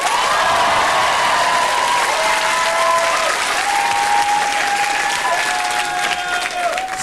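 A studio audience at a New Year comedy show claps loudly and steadily for about seven seconds, a thick, even wash of applause with no break and no talking.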